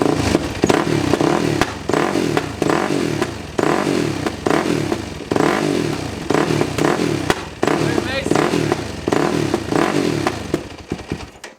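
A 4-stroke dirt bike with a Keihin FCR carburetor runs rough, its engine rising and falling in uneven bursts with popping and backfiring cracks and clattering, loud and close throughout.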